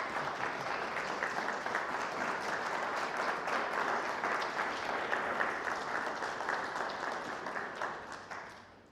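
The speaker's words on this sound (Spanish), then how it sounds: "Dale un fuerte aplauso al Señor" A church congregation gives strong applause for the Lord, a thick, sustained wall of clapping that holds steady and then fades out near the end.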